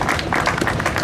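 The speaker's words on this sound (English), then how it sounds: "Let's give them a round of applause." Audience at an industry equipment unveiling claps for the event sponsors, a brief burst of close, uneven handclaps from a modest crowd.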